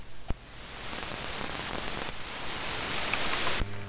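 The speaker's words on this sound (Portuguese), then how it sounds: "Mas também está de chuva." Steady rain falls as a dense, even hiss that holds for several seconds, broken by a brief click near the start and an abrupt cutoff near the end.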